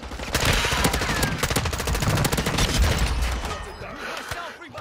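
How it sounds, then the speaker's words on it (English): Rapid automatic gunfire in Call of Duty: Modern Warfare II, dense repeated bursts of shots that run almost continuously, loud and close, easing toward the end. "somebody else shooting on me"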